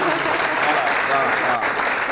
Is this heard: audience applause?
yes